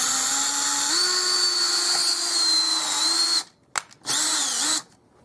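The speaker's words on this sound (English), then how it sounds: "I can drive this screw right through the board if I want to and bring it back." A power drill drives a screw through a board with no pilot hole, a loud, steady high whine that rises slightly in pitch, then cuts off abruptly and briefly restarts before stopping.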